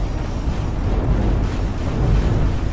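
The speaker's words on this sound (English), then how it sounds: "Explosion imminent. And there it goes." A ship blowing up in the space game X4: Foundations, heard as a dense, sustained low rumble that roars steadily for a few seconds without a sharp single bang.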